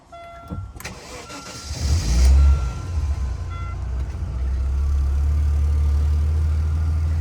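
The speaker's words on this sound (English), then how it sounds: "We'll just start quickly because it tends to be annoying to start up." A 1995 Aston Martin DB7 3.2 supercharged starts up after a few clicks, its engine cranking and catching into a loud rumble near 2 seconds, then settling into a steady deep idle.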